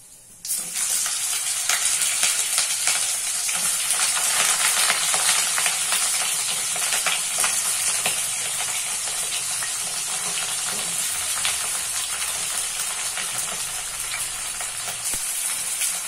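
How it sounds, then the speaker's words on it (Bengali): Pieces of pointed gourd fry in hot oil in a pan with panch phoron and dried red chillies, giving a loud, continuous sizzle with a bright hiss that carries on steadily without a break or any voices. "এরপর প্রথমে আমি পটলগুলোকে ভালো করে ভেজে নেব।"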